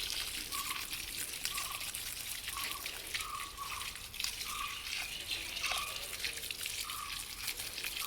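Boron solution poured from a can onto the soil around a rambutan tree outdoors, a continuous trickling splash with small bubbling gurgles recurring every second or so.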